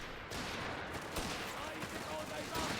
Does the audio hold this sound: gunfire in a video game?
yes